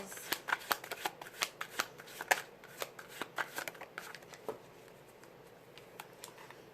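A deck of Divine Feminine oracle cards is shuffled by hand, producing a rapid string of soft, close riffling clicks that fade out after a few seconds in a quiet room.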